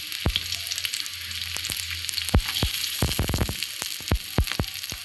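Onions frying in hot oil until reddish, a steady close sizzle broken by repeated sharp crackles and spatters, with no talking.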